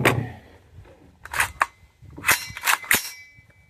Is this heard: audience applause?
no